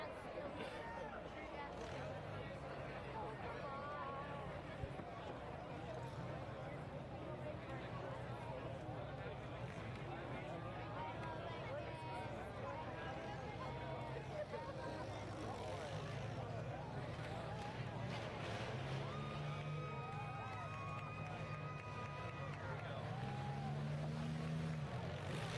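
Race car engines run at a speedway demolition derby, a steady low rumble of several engines droning on throughout, with revving swells near the end and voices talking over it.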